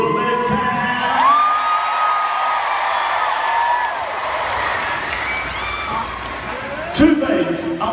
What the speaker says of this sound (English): give a big round of applause for the super group